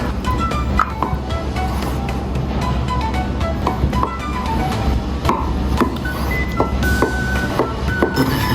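Button mushrooms are cut into small pieces on a board, giving a string of irregular knife taps and thuds over a steady background hum.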